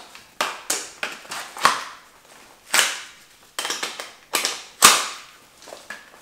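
Magfed paintball gun magazines being reloaded from Fastmag pouches, giving sharp plastic snaps and clacks in irregular bursts about six times, close and loud with no talking.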